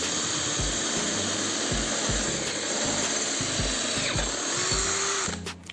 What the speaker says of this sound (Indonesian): Saya menggunakan kecepatan pelan saja untuk mengebor besi supaya lebih maksimal